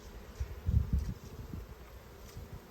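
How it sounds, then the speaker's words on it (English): A low, fluttering buzz of honey bees around a hive drones steadily, with brief louder swells as bees pass close by, and no voices. "I've seen the bees really active."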